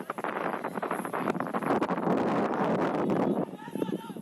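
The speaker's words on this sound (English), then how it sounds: "Windy day." Gusty wind buffets the microphone at an outdoor United Premier Soccer League match between Detroit City FC II and FCY New York, a steady rumbling roar that eases slightly near the end, with faint crowd and field sounds beneath.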